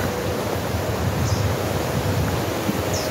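Wind blows steadily on a mountain hiking trail in Torres del Paine, Patagonia, a constant rushing roar buffeting the microphone with no pauses.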